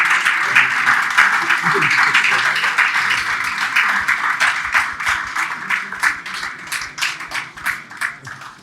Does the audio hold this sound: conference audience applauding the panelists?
yes